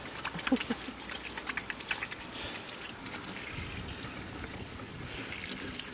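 Running water trickles and splashes outdoors as hands are washed at an outdoor tap beside a barbecue, with a few brief louder splashes early on, then a steady moderate trickle with birds faintly in the background.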